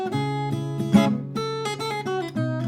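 At normal tempo, fingerstyle guitar runs through a song intro, plucked treble notes over a held low bass note, bright and close with no voices.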